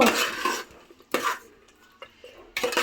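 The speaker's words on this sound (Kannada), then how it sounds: "ಗರಂ ಮಸಾಲೆ ಹಾಕಿ ಸ್ವಲ್ಪ ಅದನ್ನು ಬಾಡಿಸ್ಬೇಕು. ಫ್ರೈ ಮಾಡಬೇಕು ಅಂದರೆ ಸ್ಪೂನಲ್ಲಿ ಬಾಡಿಸ್ಬೇಕು" A metal spoon scrapes and clinks against a pan while garam masala is stirred and fried for mutton chops, coming in several short bursts separated by quiet pauses.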